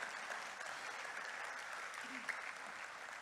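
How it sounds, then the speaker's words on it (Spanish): Steady applause from a church congregation during a Spanish-language Sunday service, a continuous even patter of many hands that sounds soft and somewhat distant for the whole stretch. "Dale un fuerte aplauso al Señor."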